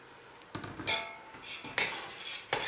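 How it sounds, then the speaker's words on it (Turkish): Dry lentils pouring into a pot of browned, sautéed ingredients, followed by a few close clatters and scrapes of a utensil against the pot and a soft sizzle throughout. "Şimdi mercimekleri içine ilave ettim."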